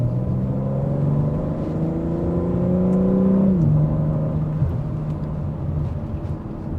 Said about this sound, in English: It's definitely a symphony to my ear, that exhaust note that filters in.